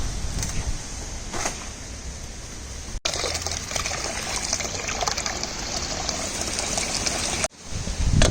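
Water pours steadily into a cooking pot outdoors while a Jamaican meal of mackerel, dumpling and banana is prepared, a continuous close gushing trickle interrupted by two brief cuts.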